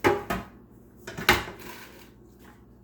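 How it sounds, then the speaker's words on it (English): A metal baking pan is picked up and set down in a kitchen, giving a few close clanks and scrapes separated by short quiet gaps. "We have our baking pan"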